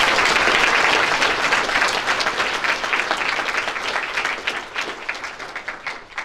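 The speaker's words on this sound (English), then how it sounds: "We should give them all a round of applause." A room of faculty and staff applauds newly promoted colleagues at a meeting. The dense clapping is loud at first, then thins and fades over about six seconds.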